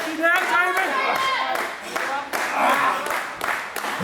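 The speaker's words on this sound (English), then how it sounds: "The crowd here just starting to get behind Draven a little bit" A crowd at a live Australian Wrestling Federation show claps in bursts, with scattered cheers mixed in, while a commentator talks over it throughout.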